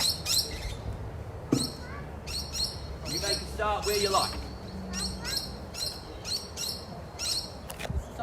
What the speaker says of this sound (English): Some bird sounds, lots of trees and nature around you.